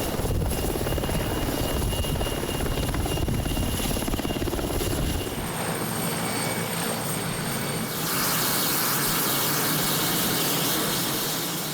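A helicopter in flight roars loudly and steadily throughout, the rotor and engine noise shifting in tone partway through without ever letting up.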